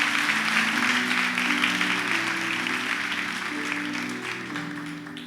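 Church congregation applauding at a Portuguese-language service, loud continuous clapping from a large crowd over sustained organ-like musical tones, slowly tapering toward the end.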